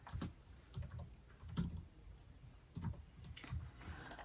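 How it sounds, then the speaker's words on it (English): Code being typed on a computer keyboard, quiet clusters of key clicks in short irregular bursts with pauses between, close and soft. "does it pop up later when I type the required code?"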